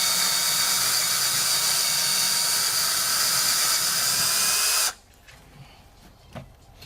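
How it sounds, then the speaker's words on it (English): A power drill whines loudly and steadily while boring through a RidgePro ridge tip, then cuts off abruptly, leaving a quiet room with a few faint knocks and clatters. "we're drilled all the way through"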